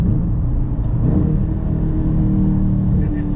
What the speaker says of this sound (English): It revs up actually pretty solid.